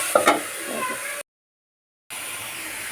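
Cabbage bhaji stir-frying in a pan, a soft close sizzle with a couple of spoon scrapes, cut by a brief stretch of total silence before the sizzle returns.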